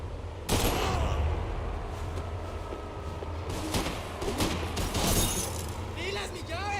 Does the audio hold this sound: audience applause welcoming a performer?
no